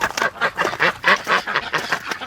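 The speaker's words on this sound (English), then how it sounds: "The ducks are really enjoying this warm weather." A flock of ducks in a pen quacks continuously and loudly up close in warm weather, the overlapping calls forming a steady chorus.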